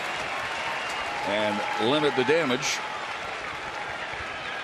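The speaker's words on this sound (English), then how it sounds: "Crowd trying to help Alexi maybe strike out the side here" Baseball stadium crowd at a Boston at Texas game cheering and clapping as a steady, distant roar, with a commentator talking over it.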